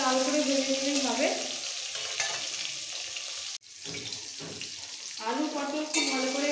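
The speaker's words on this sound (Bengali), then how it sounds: "একটু হালকা লাল করে ভেজে নিলেই হবে।" Potatoes and pointed gourd fry in turmeric-dusted oil in a pan, a steady close sizzle with stirring scrapes and a brief break midway before the frying hiss resumes.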